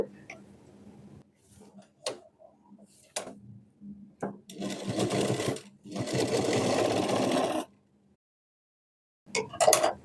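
A sewing machine stitches a frock neckline in short separate bursts of a few ticks each, then runs in a long steady whir for about three seconds before stopping, with a brief burst at the end.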